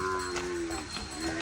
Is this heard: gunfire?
no